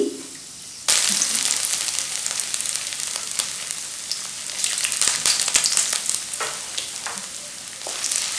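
Peppercorns, chili and ginger hit hot oil in a pan and burst into loud, steady sizzling that continues throughout, crackling with small pops and occasional stirring close by.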